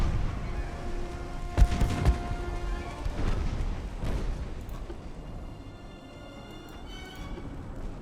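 In the naval video game Ultimate Admiral Dreadnoughts, a torpedo hit explodes with a deep boom that rolls into a rumbling decay, among more distant booming gunfire and a steady low background hum.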